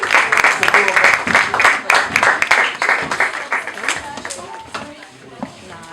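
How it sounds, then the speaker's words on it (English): An audience at a high school vocal ensemble event applauds and claps, starting loud and gradually thinning out, with voices and cheering mixed in. "I want you guys to give them a round of applause."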